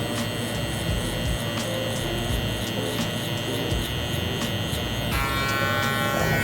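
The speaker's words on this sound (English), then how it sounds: "Next thing, I'm gonna grab my trimmer." An electric hair trimmer buzzes continuously up close while cutting a low taper, its tone shifting near the end as it changes against the hair.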